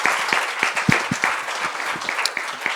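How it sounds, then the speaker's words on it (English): An audience at a women entrepreneurs business forum applauds the speakers: sustained, lively clapping from a good-sized crowd, close and continuous, with a few sharper individual claps standing out. "So applause for our fantastic speakers."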